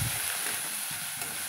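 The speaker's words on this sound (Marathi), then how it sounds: "मी आता थोडंसं टाकत आहे अद्रक लसणाची पेस्ट" Ginger garlic paste sizzles in hot oil, a soft, steady hiss of frying close by with no voices, lasting only a moment.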